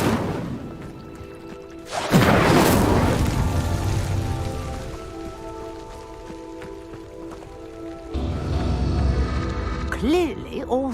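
In Hogwarts Legacy on PS5, the Incendio fire spell lights a pyre with a sudden loud whooshing burst and crackle of flames, then a lower roar of fire, ending with shimmering magical chimes.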